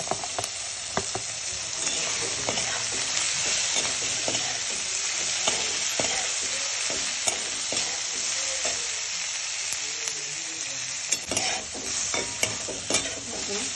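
Finely shredded cabbage sizzles steadily as it is stir-fried in a hot pan for veg hakka noodles, with a constant bright hiss and occasional scraping and tossing clicks throughout.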